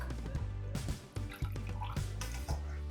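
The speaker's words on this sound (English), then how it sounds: "Let me just pour it out in a glass and show you how much water comes out of" Water drained from a salad spinner after washing greens and poured into a glass, close and fairly loud: splashing, gurgling trickles with a few pauses, heard alone.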